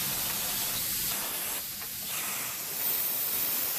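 Parts cleaner sprays onto the differential fill plug of a classic car as a continuous close hiss lasting several seconds, with no voices.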